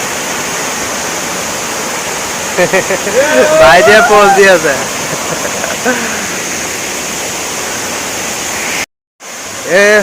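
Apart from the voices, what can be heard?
Linhojar waterfall in West Karbi Anglong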